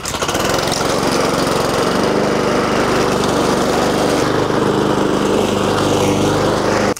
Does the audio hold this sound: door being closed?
no